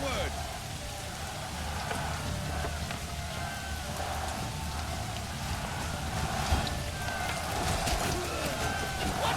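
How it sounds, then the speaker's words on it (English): Steady rain pours throughout a Manor Lords medieval battle, a dense even hiss of drops on the ground with faint scattered clashes and movement underneath, constant and close. "Fighting in the rain."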